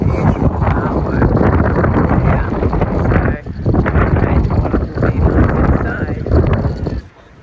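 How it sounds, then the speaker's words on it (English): Strong wind buffeting a microphone outdoors beside a cathedral in Italy, loud continuous rumbling gusts with a brief lull midway, while a person talks over it. "So it's very windy, so I have to put up with that."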